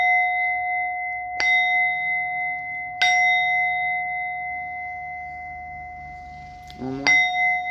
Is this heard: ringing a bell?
yes